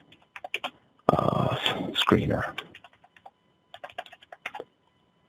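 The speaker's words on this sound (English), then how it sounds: "excuse my typing" Rapid typing on a computer keyboard, clusters of crisp close clicks in short bursts, with a stretch of talking in the middle breaking up the keystrokes.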